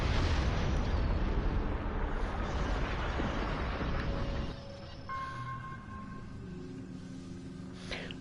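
A Star Trek starship explosion effect: a loud, dense roaring blast that rumbles for several seconds, then drops into a quieter fading wash with faint tonal electronic beeps.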